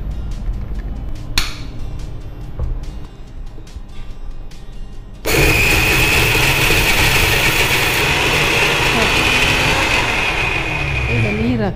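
A mixer grinder whirs loudly as it grinds masala in a home kitchen, starting abruptly partway through with a steady high-pitched motor roar after quieter background sounds.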